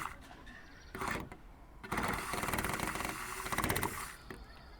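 Bamboo chasen briskly whisking matcha for a latte, a fast rattling, scratchy swish that comes in a few short bursts and then one longer sustained run, close and moderately loud.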